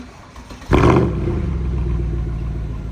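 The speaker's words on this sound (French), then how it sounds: "on va pouvoir démarrer le véhicule, entendre la sonorité de ce V8 atmosphérique d'origine" A Mercedes C63 AMG with its naturally aspirated V8 fires up in a parking garage, a sudden loud starter catch and bark settling into a deep, steady, resonant idle rumble.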